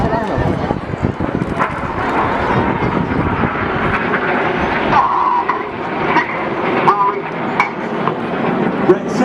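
Red Arrows synchro pair jets fly past upside down at the 2015 Rhyl beach air show, a loud continuous roar of jet engines under amplified commentary throughout.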